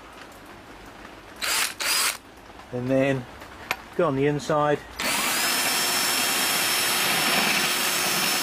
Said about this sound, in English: I use this grinding wheel on the end of my drill,